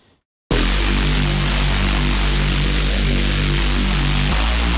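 A Vital Reese bass for drum and bass, run through OTT compression and Trash saturation, roars in loud and thick right after a short silence, a held gritty low note with heavy upper fizz, alone without voices.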